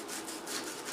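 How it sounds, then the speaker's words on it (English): A knife slices meat thinly on a cutting board while preparing Cameroonian soya, giving a brief, close, soft rasping stroke. "you want to cut the meat as thin as you can"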